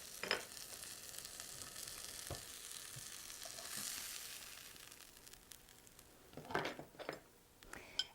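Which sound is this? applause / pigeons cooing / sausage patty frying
sausage patty frying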